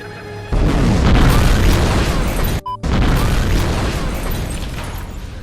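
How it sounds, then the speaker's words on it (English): Loud, sustained explosion roar as robots blow up in the film Tomorrowland, a dense booming blast lasting several seconds with a brief cut of near-silence midway before the rumbling continues. "The robots explode after Athena kills them"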